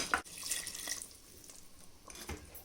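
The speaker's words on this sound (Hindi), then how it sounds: "अब इसमें हम थोड़ा सा पानी डालते हैं ग्रेवी के लिए और गलाने के लिए।" Water from a jar pours into a simmering masala gravy for Old Delhi-style degi aloo gosht, a brief soft splashing and trickling that comes in short bursts, fairly quiet and close, with no voices.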